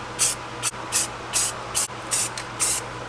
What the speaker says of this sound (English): I've got this spray, Rust Reformer, instantly converts rust to protected paintable surface